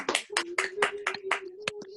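Seated audience at a seniors' meeting with a singer clapping, a quick run of sharp, separate hand claps at moderate volume while a voice holds a sustained tone underneath.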